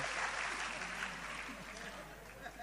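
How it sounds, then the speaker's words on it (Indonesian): An audience at an Islamic religious study gathering applauds for Gus Kausar, a steady, fairly faint patter of clapping heard from within the crowd. "Tepuk tangan untuk Gus Kausar nggak apa-apa."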